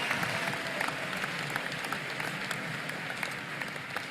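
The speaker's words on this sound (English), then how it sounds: "applause for Mats" Steady, moderately distant applause from a crowd at a Rubik's cube championship in Paris, a dense even patter of clapping throughout with no talk.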